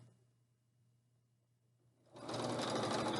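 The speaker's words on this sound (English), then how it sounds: "Just sew all the way off the end" A sewing machine stitching a hem in twin sheet fabric starts up after a quiet hum, then runs in a fast, steady, close whirring rattle.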